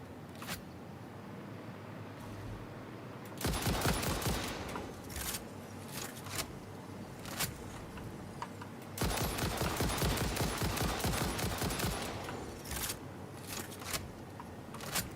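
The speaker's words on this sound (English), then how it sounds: "Something's shooting fireballs" Fireballs shot by a creature in the factory-building game Satisfactory, heard as repeated sharp, crackling bursts in two dense, loud stretches, with scattered single pops and a steady low background hum between them.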